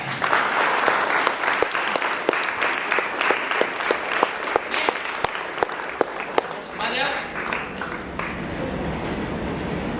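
Audience applause at a school board-level English debate for class 9 and 10 students: dense, steady clapping from a crowd fills the whole stretch with sharp individual claps standing out, fading slightly near the end.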